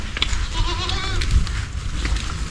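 Goats on a farm bleat close by, a wavering nasal cry of a second or so over a low rumble of wind and ambient noise.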